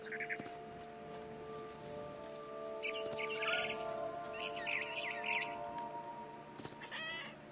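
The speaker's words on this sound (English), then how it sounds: "Then I heard chirping outside my window. It was a barn swallow going back to her nest." Barn swallow chirping in the video game What Remains of Edith Finch, a series of light, high chirps and tweets over a steady game ambience, with a denser burst of calls in the middle.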